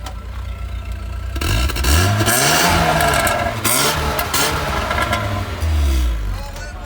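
A Lada car's engine is revved at a used car market, opening with a quieter idle before the throttle is blipped into repeated rising and falling revs, loud and close, with voices faintly behind.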